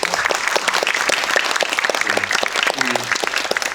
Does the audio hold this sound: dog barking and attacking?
no